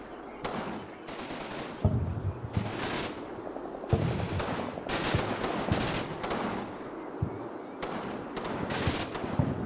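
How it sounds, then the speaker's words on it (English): Heavy machine gun fire hammers a bunker in a World War II-style war video game with German forces, with repeated loud, sharp bursts of rapid shots and short gaps between them, with no talking. "This heavy machine gun's doing it as well."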